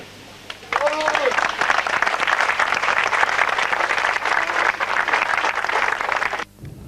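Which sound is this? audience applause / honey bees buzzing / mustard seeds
audience applause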